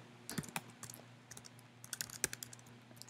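Quiet, close computer keyboard typing in quick irregular bursts of clicks with short pauses, as server code for a network file server is entered.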